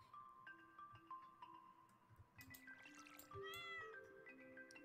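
A cat meows in the video game Stardew Valley, its short mewing calls sounding over light game music and ambient tones, with a louder cry near the end.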